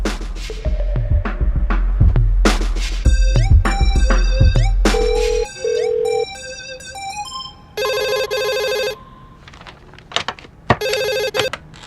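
A telephone ringtone plays close and loud, a bright electronic melody of quick repeated notes and chirps that shifts through several patterns before ending, with brief pauses between phrases.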